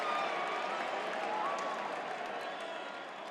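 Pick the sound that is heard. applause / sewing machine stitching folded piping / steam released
applause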